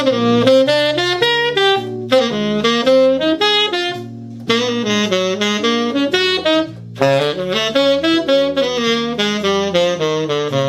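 Piano chords step downward through descending dominant seventh chords in a blues progression, each chord struck and repeated in a lively rhythm, played alone.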